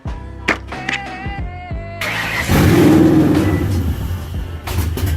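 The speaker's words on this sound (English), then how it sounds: "we about to try to start it up by the key now" A 1998 Ford Mustang Mach 1 is started with the key, with a few clicks and whirring cranking before the engine catches at about two seconds and settles into a loud, rough rumble up close.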